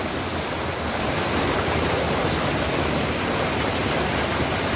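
Waterfall and flowing river at Kotabagh near Nainital, a steady loud broadband roar of rushing water with no pauses and no voices.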